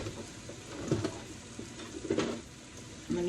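A wooden spoon stirs vegan bacon around a frying pan, giving soft scraping knocks over a steady sizzle, with a few louder clusters of stirring close by.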